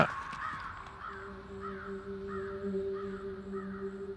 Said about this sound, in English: Was that just a crow